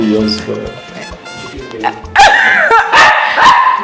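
A puppy barks and yips in short bursts close by, with people talking and calling out around it.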